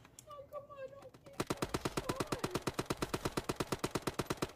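Rapid automatic AK-style rifle fire in the browser shooter Shell Shockers, a steady burst of around thirty sharp shots after a brief lead-in of game tones, loud and close.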